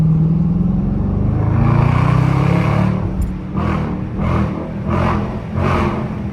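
A Dodge Charger R/T with a 5.7-litre engine pulls hard on a downtown street in Mexico, a loud, deep exhaust drone that rises and then surges in several rhythmic bursts of revving.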